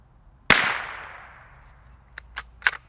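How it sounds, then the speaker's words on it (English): A single 40 grain subsonic round fired from a suppressed Fox Creek Arms FX-22 Ti rifle gives one sharp crack with a fading tail, then a few small, quick clicks close by. "Now we're gonna put 1 round down range"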